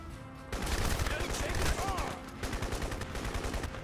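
Rapid gunfire from the video game Crysis rattles loudly and continuously for about three seconds after a quiet start, with dense bursts like automatic weapons fire and faint talk mixed in.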